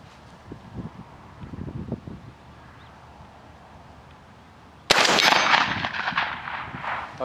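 A UTAS XTR 12 shotgun firing a slug outdoors at a range, a single sudden loud blast after quiet wind and faint rustling, followed by a long fading echo.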